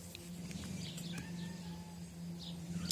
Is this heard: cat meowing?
yes